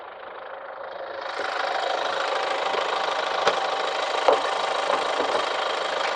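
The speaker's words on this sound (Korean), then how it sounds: "디젤 차량이기 때문에 진동도 많고 그리고 소음도 굉장히 시끄럽습니다" A diesel car engine idles just after being started, a loud, steady close rumble with a rough knocking vibration and a few brief louder thumps, no voices.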